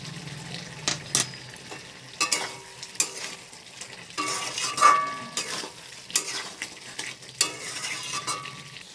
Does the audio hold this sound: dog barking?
no